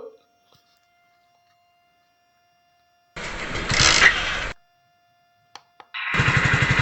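A BS6 fuel-injected Hero Splendor motorcycle with an electrical fault is kicked over and catches, running in a loud rough burst, stopping, then firing up again after a couple of faint clicks.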